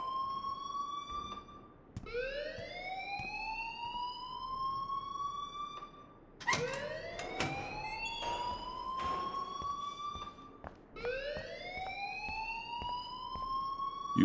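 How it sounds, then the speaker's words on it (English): A wailing alarm siren sounds inside a video game, rising in repeated upward sweeps about every four seconds, loud and steady with no talking over it. "please turn off that alarm since that's your job"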